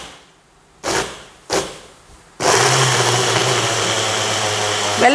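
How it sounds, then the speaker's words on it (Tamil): A mixer grinder grinding sesame seeds with jaggery: two short pulses of the motor, then a loud, steady, close whirring grind running without a break until the end. "வெல்லத்தோடு அது சேர்த்து போட்டு அரைச்சிட்டேன்"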